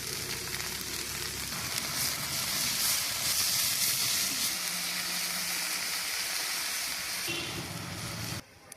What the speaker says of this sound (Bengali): এর জন্য পেঁয়াজ, রসুন, কাঁচামরিচ এবং তেল দিয়ে তেলে নিচ্ছি